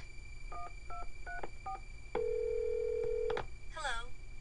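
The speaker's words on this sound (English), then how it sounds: "Let's make a phone call." Telephone keypad tones from the PlayStation game Clock Tower: four short dialing beeps in quick succession, then a long steady ringing tone, a couple of clicks and a brief warbling chirp at the end.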